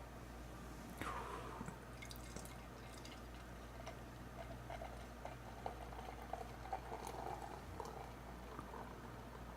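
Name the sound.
beer poured into a snifter glass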